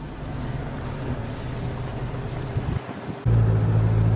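An Isuzu MU-X 1.9 diesel idles steadily from inside the cabin, then the engine note deepens and grows louder as it pulls away on a city road after being put into gear.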